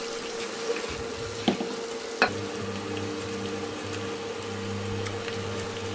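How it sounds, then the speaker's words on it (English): Apples sizzle in foaming butter in a pan, a soft, continuous frying hiss with a low hum underneath and two distinct clacks of a utensil against the pan partway through. "Coat the apples in the butter."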